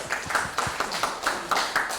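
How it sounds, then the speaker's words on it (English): Scattered clapping from a small audience at a heritage tourism forum, a handful of distinct claps in loose rhythm, fairly close and moderately loud over a short stretch. "Applause."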